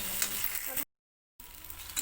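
Food sizzles and hisses steadily as it fries in a pan on the stove. The frying drops out briefly midway, then resumes.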